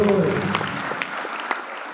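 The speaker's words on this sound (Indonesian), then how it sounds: "Yang setuju boleh berikan tepuk tangan yang meriah buat Tuhan Yesus." A church congregation applauds in praise during a sermon, a brief, moderately loud patter of clapping that fades quickly, with a voice briefly heard at the start.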